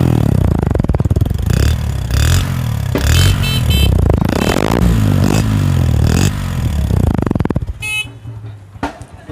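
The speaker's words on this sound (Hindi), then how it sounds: "ये जी बिल्कुल ज़ीरो मोटरसाइकिल का साउंड आपने सुना है" A new Honda CD70 motorcycle engine starts and revs in uneven bursts close by, clattering and roaring, then cuts down near the end.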